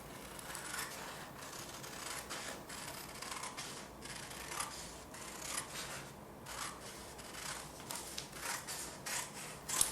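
Scissors cutting out a paper pattern for a leather knife sheath, a steady run of soft rasping snips and paper rustle, close and quiet, with no voices.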